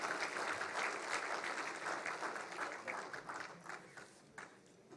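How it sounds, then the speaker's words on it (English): An audience at a startup conclave applauds in a quick, crisp wave of clapping that swells at first and then thins and fades toward the end. "A huge round of applause, ladies and gentlemen."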